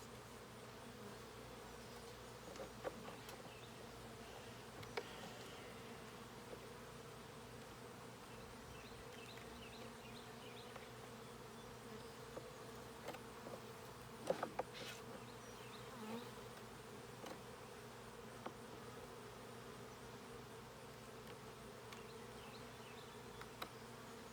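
Honeybees buzz around an opened beehive box during an inspection, a steady, soft hum of many insects with occasional louder passes nearby and no voices.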